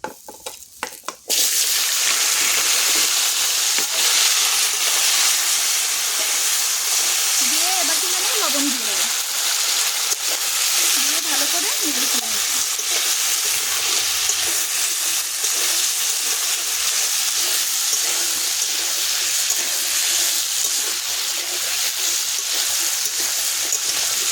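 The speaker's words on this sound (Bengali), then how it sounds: "এখানে আমি আলু আর কচুর মুখে কেটে নিয়েছি সেটাই কিন্তু এখন দিয়ে দেবো" Potato and taro pieces hitting hot oil with garlic and cumin, a loud steady frying sizzle that starts abruptly and keeps going throughout, with a voice speaking briefly under it.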